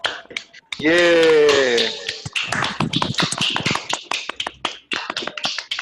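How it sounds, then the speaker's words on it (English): Several participants in an online meeting clap for about ten seconds, producing scattered, uneven claps and snaps. A brief cheering voice rises near the start. "I would like you to time everyone clapping for 10 seconds."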